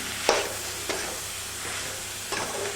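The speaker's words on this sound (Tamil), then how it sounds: "தூவி ஒரு கிளறி விட்டுறலாங்க." Goat blood fry with a handful of coriander leaves is stirred in a pan, a soft continuous sizzle broken by a few scraping strokes.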